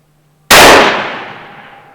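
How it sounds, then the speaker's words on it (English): A single sharp rifle shot firing a tracer round, a loud close crack that bursts out of near silence and then rings down in a long fading echo. "This gun has a big concussion to it."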